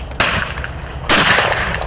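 Two sharp shotgun blasts at a clay pigeon shooting range, close and loud, about a second apart, each with a brief ringing tail.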